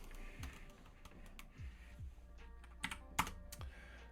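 Keys clack on a computer keyboard during web development coding work, giving irregular clusters of crisp, close taps with a few louder strikes and short pauses between bursts, and no voices.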